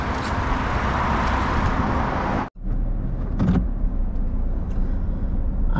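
A car engine runs steadily at the roadside beside a busy toll road, with a brief drop partway through, then continues with traffic rumble behind it.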